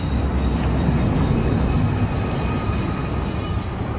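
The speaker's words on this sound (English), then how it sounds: "There's a train. There's always a train." Rumble of a train running near bridges along a dirt trail on the Pacific Crest Trail, a steady loud low roar sustained throughout without speech.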